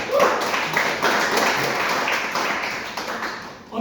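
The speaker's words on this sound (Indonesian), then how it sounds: "Tepuk tangan untuk kalian semua" Students in a classroom clap together, a close, fairly loud patter of hands that stays steady and thins toward the end.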